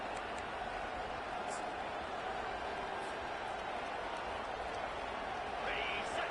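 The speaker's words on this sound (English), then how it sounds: "This crowd bringing the energy and noise early." A dense, continuous roar of a large stadium crowd at a Georgia college football game fills the space, steady and loud with no breaks.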